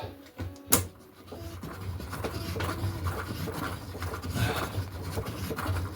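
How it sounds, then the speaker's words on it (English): A Lee Precision Deluxe hand case trimmer cuts brass cartridge cases with a dulling cutter, making continuous close rough scraping and grinding after a sharp click near the start; no voices. "I'm going through all these cases, trimming them, and it's getting tiring now."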